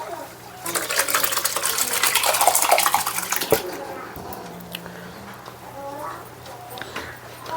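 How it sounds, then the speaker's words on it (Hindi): Whey water draining from freshly made chhena through a clean muslin cloth while making rasmalai, a splashing, trickling pour that swells and then eases off, with clinking of kitchen utensils and a quiet hum in the background. "इस तरह से साफ कपड़ा, मार्किन कपड़ा लेके आप पानी निकाल लें।"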